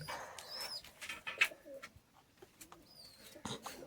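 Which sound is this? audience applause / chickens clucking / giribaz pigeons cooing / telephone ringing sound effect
giribaz pigeons cooing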